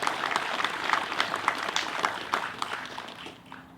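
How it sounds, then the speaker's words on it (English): A crowd claps at a golf course renovation ribbon cutting, dense steady applause that carries on for several seconds and then starts to fade. "So just big round of applause for everybody."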